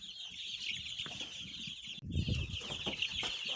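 Fourteen-day-old vaccinated chicks resting in a village coop, a dense continuous chorus of high peeping and clucking with a brief flutter of wings, close and steady throughout.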